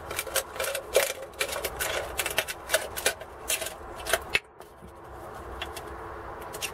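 Blade cutting around a thin aluminium beer can to remove its top and bottom, a close run of quick crackling, ticking snips that pauses, then leaves only quiet background.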